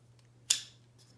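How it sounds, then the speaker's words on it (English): A single sharp snip of scissors cutting through a plastic drinking straw, close and loud, with a quick decaying tail over a low steady hum and no talking. "So I'm going to cut them about halfway,"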